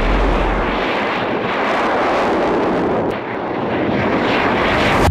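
The X-Core spacecraft takes off from a runway with a loud, continuous engine roar that fills the sound throughout, heavy rumble with some wind buffeting, and no talking.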